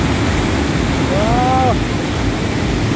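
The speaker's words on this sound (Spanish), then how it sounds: "Esta ruta a la cascada del Pailón del Diablo." Constant roaring rush of the Pailón del Diablo waterfall in Baños, Ecuador, heard up close as loud broadband noise with a brief whistle-like tone rising over it midway.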